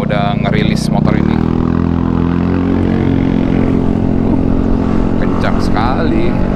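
A Yamaha Aerox Alpha Turbo scooter being ridden, its engine droning loudly and rising in pitch as it accelerates, with wind rush and a rider's voice talking over the motor.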